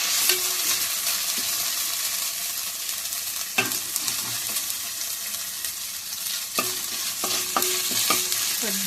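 Mushroom curry spices, including cloves, frying in a pan with a continuous sizzle, broken by several sharp clinks and scrapes of a spoon stirring against the pan.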